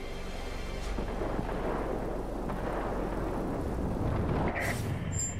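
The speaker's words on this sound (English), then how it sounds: "The storm is too heavy." Thunderstorm in the World of Warplanes video game, a steady heavy rumbling roar with no break, dense and continuous throughout, with no talking.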